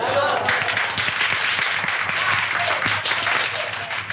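Audience applause at a 1930 beauty contest, dense continuous clapping filling the room at a steady level throughout.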